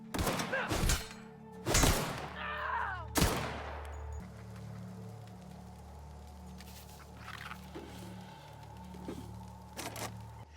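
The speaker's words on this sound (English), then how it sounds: "you come across some marauders that will let you test your new gun out" Gunfire from a new gun tested on marauders in The Outer Worlds: a few loud, sharp shots in the opening seconds, then fainter scattered reports over a low steady in-game hum.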